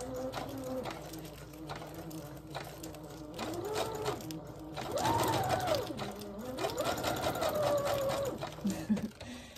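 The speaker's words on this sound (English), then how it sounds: "I'm going to place that in my sewing machine" A vintage sewing machine stitching fabric ruffles runs in bursts, its motor whirring up and down in pitch over a steady mechanical hum, fairly close by.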